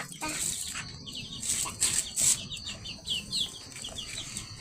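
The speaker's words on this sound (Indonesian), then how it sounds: "Itu ayam Jawa namanya." Javanese chickens cluck and chirp in short, scattered bursts nearby, with faint background noise between the calls.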